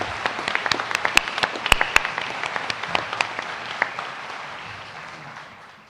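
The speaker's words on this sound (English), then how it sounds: "maybe give your family a round of applause" Graduates and guests at a university conferring ceremony applaud their families, a crisp crowd of clapping with sharp individual claps standing out, fading away toward the end.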